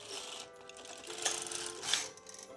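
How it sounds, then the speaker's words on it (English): An LK-150 knitting machine carriage knits a row of white yarn, a close, rattling mechanical slide that swells and fades across a couple of seconds. "then we feed the white into the carriage, and then we can start doing short rows. So that comes out, and then we knit 1 row."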